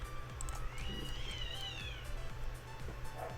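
An angry cat lets out a loud, drawn-out yowl, rising and falling in pitch like a shriek of pain, over a steady low background hum, with a couple of shorter meow-like squeals around it.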